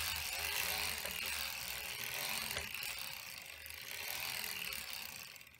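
Hand-cranked sock knitting machine being turned, a steady close ratcheting clatter of needles and cams with a soft whir, moderately quiet and without talk.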